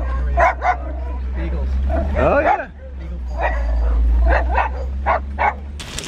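A dog barks and yips in short bursts with some whimpering, close by, while people talk over it at a brewery in Braintree, Vermont.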